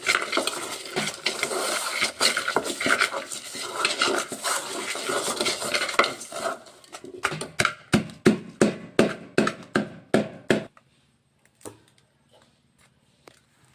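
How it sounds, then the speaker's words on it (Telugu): Dried red chillies are torn apart by hand over a village-style raw tamarind pulusu: a dense, dry crackling and rustling, then a run of sharp, separate snaps that thin out and stop, near and fairly loud, with no talk. "ఎండుమిరగాయలను చిరిపేస్తున్నానండి"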